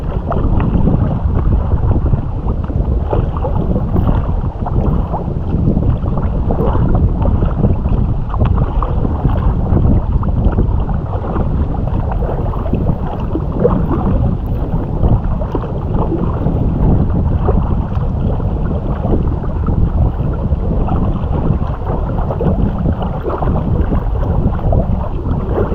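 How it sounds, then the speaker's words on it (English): Steady, loud wind buffeting the microphone over choppy water and waves slapping against a kayak on the sea near Oban, Scotland, continuous with no talking. "Paddling into quite a stiff breeze now."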